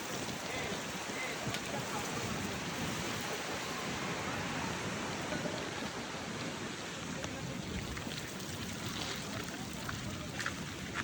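Steady heavy rain falls at Amboli as a dense, even hiss of downpour that never lets up, close and continuous with only small spatters standing out.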